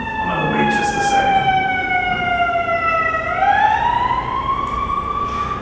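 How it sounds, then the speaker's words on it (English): A loud wailing siren sweeps steadily downward in pitch, then abruptly rises again, sustained throughout with a faint rumble of traffic beneath. "I hate these sirens."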